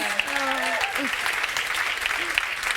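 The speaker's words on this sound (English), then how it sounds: "Big round of applause" Conference audience at a leadership event giving a big round of applause, dense clapping throughout with a presenter's voice speaking over it.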